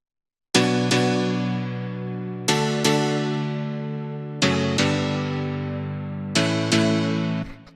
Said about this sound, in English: After that we have this house piano